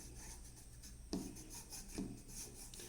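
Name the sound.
rubbing wax by finger over a vintage ornament frame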